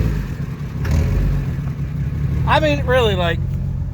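A Jeep engine runs with no motor oil, a steady low rumble close by while someone talks over it.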